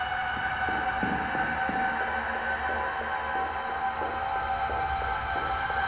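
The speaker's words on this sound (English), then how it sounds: "Air raid siren?" An air raid siren wails steadily in the horror video game Murder House, a sustained tonal drone layered over low music with faint intermittent beats, continuous and fairly loud.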